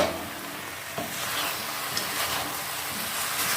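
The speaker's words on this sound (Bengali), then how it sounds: "চিকেনটা খুব সুন্দর একটু ফ্রাই হয়েছে" Chicken fries in a pan with a steady, close sizzle and crackle, a dense hiss that holds evenly throughout with a few small pops.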